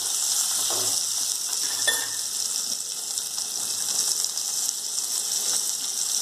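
Chopped onion dropped into hot oil with roasted peanuts while frying semolina upma: a steady, bright sizzle and crackle throughout, with faint stirring scrapes near the start and no talking.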